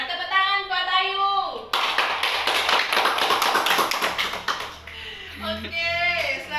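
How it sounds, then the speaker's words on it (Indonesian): A class of young children clapping for a classmate in a primary school lesson, a dense burst of quick hand claps lasting several seconds, with voices heard before and after. "tepuk tangan buat Ayu"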